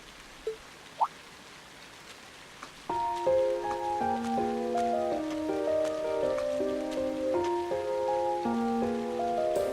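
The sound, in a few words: rain falling in The Legend of Heroes: Trails of Cold Steel video game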